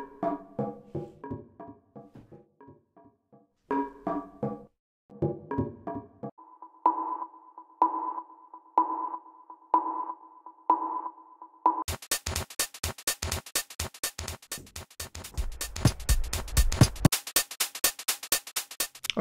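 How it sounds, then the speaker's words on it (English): Drum top loops from a sample pack auditioned in Ableton Live: a run of short percussive electronic patterns, first clipped tonal hits, then a repeating pitched blip, then a dense, fast loud hi-hat-like rattle, with no talking. "Okay, so in terms of a definition of top loops, what we're looking at here is stuff that can be put on top of a basic beat."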